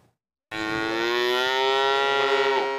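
A cow in a dairy barn gives one long, loud, close moo that starts abruptly after a brief silence and holds steady, alone without talk.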